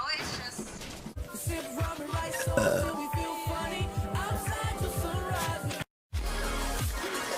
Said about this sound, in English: The burp.